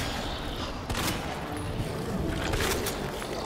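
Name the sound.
shotgun or magnum shots in Resident Evil 2 video game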